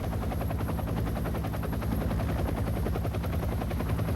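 A military helicopter evacuates commandos, its rotor chopping in a steady, loud, dense pulse that fills the whole stretch without pause.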